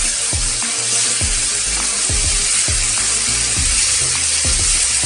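Mie tek tek noodles sizzle loudly in a hot pan while a utensil stirs them, with a constant frying hiss and repeated scraping clanks about every half second. No voices are heard.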